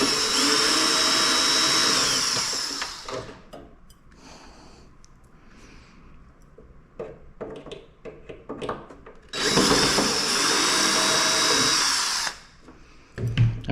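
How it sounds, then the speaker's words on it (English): A power drill loosening the screws of a motorcycle tour pack, two whirring bursts of a few seconds each separated by quiet handling clicks and rustles, close by. "I like to go in a crisscross pattern with taking my screws loose"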